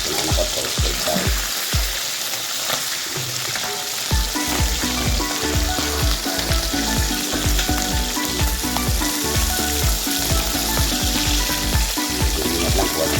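Galunggong (round scad) fish frying in a pan, a loud continuous sizzle and crackle close by with scattered pops, and brief scraping as the fish is turned.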